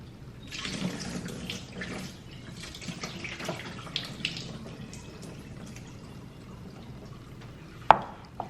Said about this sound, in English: I get one quick rinse, and I kind of just make sure I rinse them off very well.